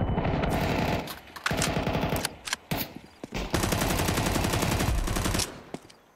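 Machine gun fire in Counter-Strike 2, loud rapid automatic bursts rattling in long stretches, broken by brief pauses and a few single shots near the end.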